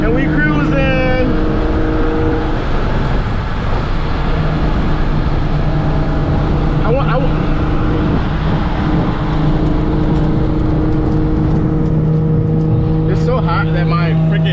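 A car cruises on the highway with a steady engine drone and road noise, while people talk inside the cabin over the continuous hum.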